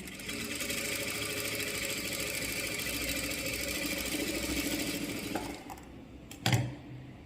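A sewing machine stitches pin tucks 1 mm from each fold, running in a steady, fast rhythmic whir for several seconds before stopping, followed by a brief clunk.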